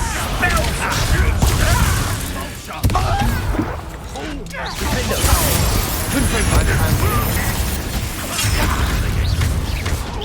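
A Confringo fire spell blasts in Hogwarts Legacy on PS5, a loud burst and whoosh amid dense battle noise, rumbling effects and shouting voices throughout.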